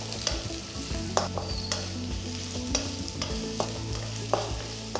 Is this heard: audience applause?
no